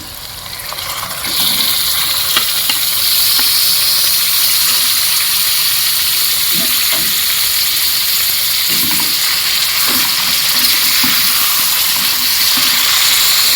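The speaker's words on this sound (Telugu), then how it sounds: "చికెన్ వేసేసుకుందాం" Raw washed chicken hits a hot pan with ginger garlic paste and onions, setting off a sudden loud, steady steamy sizzle that holds strong throughout, dotted with faint stirring knocks, close and without talk.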